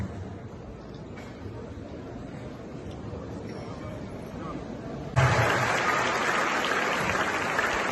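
Applause from an audience at a university lecture, a steady low murmur of hands and crowd noise that swells sharply louder about two thirds through and holds to the end.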